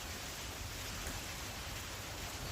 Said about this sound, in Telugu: వర్షం అయితే ఎంత అద్భుతంగా ఉందో చూడండి.